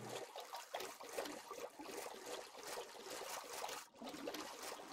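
Flowing river water in Minecraft, a steady trickling, babbling wash of game ambience running continuously with slight fluctuations and a brief dip near the end.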